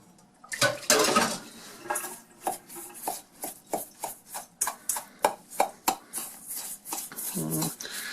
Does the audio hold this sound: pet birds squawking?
no